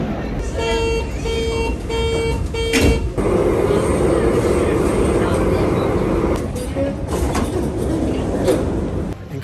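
Inside a busy Japanese train carriage: a steady rumbling ride with a tonal chime or horn early on, then continuous rolling noise and occasional clunks, with no clear speech.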